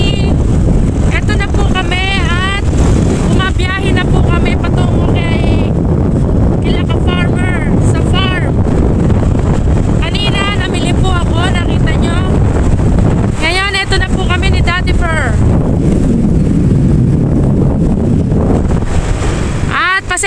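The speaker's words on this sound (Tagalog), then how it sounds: "Pasensya na po, malakas ang hangin." Strong wind buffets the microphone outdoors with a loud, continuous low rumble, while people talk over it throughout.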